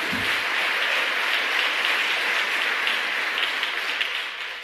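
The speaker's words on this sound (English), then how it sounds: "It was worth it, I got a clap." Audience clapping during a talk on the politics of climate change, a continuous wash of applause from a sizeable crowd that stays even and then begins to fade toward the end.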